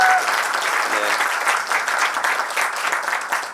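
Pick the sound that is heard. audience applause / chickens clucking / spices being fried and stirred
audience applause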